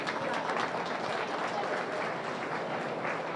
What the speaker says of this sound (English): let's give all these young kids a big round of applause.